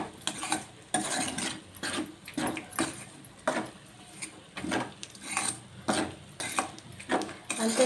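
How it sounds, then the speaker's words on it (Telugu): Cooked rice being stirred into raw mango pulihora in a metal pan, with a repeated rhythm of scraping and clinking spoon strokes against the vessel, close and fairly loud, and no talking. "ఇప్పుడు మనం అన్నం వేసుకొని ఇది మొత్తం కలిసేటట్టు కలుపుదాం"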